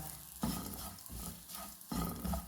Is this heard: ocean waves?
no